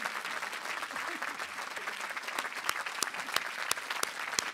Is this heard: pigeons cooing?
no